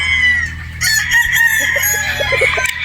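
A Boston Roundhead gamefowl rooster crowing loudly and close by, one full drawn-out cock-a-doodle-doo with a low hum underneath.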